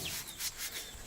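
Tarnished copper pot scrubbed clean by hand, giving a soft, faint rubbing hiss in a few short strokes over about a second, with no talking.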